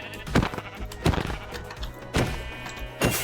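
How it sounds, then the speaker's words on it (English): An orange sheep bleating in a video game, four short separate bleats spaced about a second apart, close and fairly loud with faint game ambience in between. "We have a sheep, and in fact it's an orange sheep, which is very cute."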